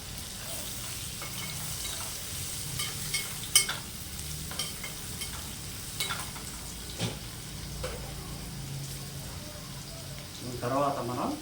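Curry leaves fry in hot oil for a Telugu amaranth-leaf tempering dish, a steady low sizzle with faint crackles and a few clinks, quiet and close, with talking at times.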